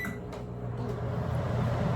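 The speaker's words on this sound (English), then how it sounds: "I'm going to mix this together and pop it in the microwave for like a quick couple seconds" A microwave oven hums steadily while heating a vegan pasta sauce mixture, a close, even drone lasting the whole moment with no talk.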